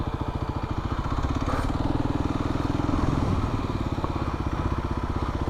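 A motorcycle rides through hot desert washes, its engine a steady, loud, close throbbing rumble with a fast even pulse that surges slightly midway and continues without letup.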